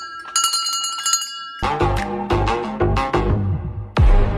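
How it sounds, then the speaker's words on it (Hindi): Temple bells ring at Dhari Devi temple, a bright metallic ringing that gives way to a dense run of repeated clangs and struck bells, loud and close, with one final strong strike near the end. "ये सब जगह ऐसा घंटी लगाया गया।"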